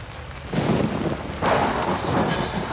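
Steady rain and rumbling thunder in the horror video game Outlast, an outdoor night scene, with broadband wash swelling in two louder surges as thunder rolls over continuous rainfall, no voices.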